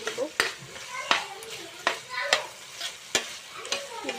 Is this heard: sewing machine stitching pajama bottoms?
no